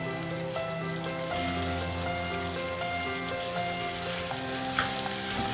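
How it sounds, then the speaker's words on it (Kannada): Chopped ivy gourd (tondekayi) fries in a pan with a steady, rain-like crackling sizzle. Sustained tonal notes run underneath, and one brief sharper pop comes near the end. "ತೊಂಡೆಕಾಯಿ ಫ್ರೈ ಆಗಿದೆ."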